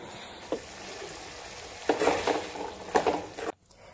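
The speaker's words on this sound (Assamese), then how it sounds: "ইফালে বুটু ভাজি আছো" Chickpeas fry in a pan with a steady low sizzle, broken by a few close scraping stirs of a utensil before the sound cuts off abruptly.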